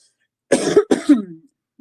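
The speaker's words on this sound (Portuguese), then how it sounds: "Desculpa pela tosse, galera." Two harsh, close coughs in quick succession, the second trailing off into a brief throat-clearing rasp, then quiet.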